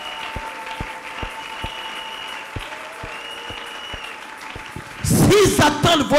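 A church congregation at a Sunday service bursts into loud applause and cheering near the end, after a stretch of quieter sound with a preacher's voice and steady rhythmic taps.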